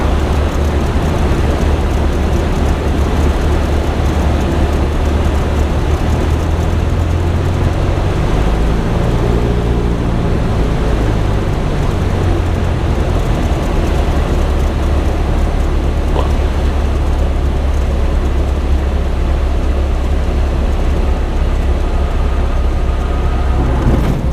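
A Cessna light aircraft's engine drones steadily at high power during takeoff roll, a constant loud cabin rumble with a brief rising tonal sweep partway through, and no talk.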